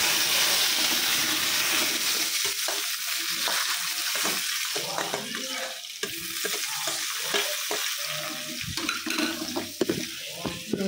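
Food frying in a pan after mustard seeds go in, alone and moderately quiet: a bright hiss fades into a choppy run of scraping, clacking stirs and crackles.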